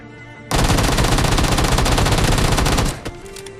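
Automatic gunfire in the mobile game PUBG Mobile: a loud, dense, continuous burst of rapid shots lasting over two seconds, then stopping abruptly, followed by a faint tone.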